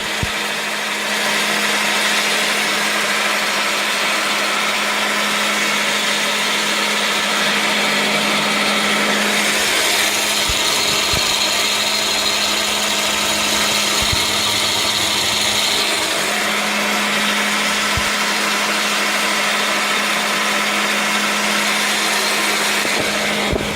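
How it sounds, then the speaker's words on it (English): Cheap winch drives a fidget-spinner wire straightener, giving a loud, constant motor whine and rattle with a few sharp clicks scattered through, close and alone. "that's pretty loud, but that's just because it's a really cheap winch"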